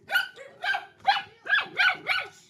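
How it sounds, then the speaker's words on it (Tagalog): Dogs bark in a quick series of about six sharp, evenly spaced barks, fairly close, with no talking. "Ang daming aso."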